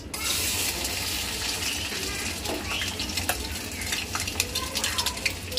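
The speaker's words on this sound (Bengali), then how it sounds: "এই যে এখন এই যে চিংড়ি মাছগুলো দিয়ে দিব।" Shrimp drop into a hot, sizzling pan for bharta, giving steady frying crackle broken by sharp clinks and scrapes of a utensil against the pan, close and fairly loud.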